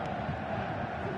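Steady crowd roar from a stadium during a video game football match, a dense continuous wash of many voices, loud and close, without breaks for the whole moment.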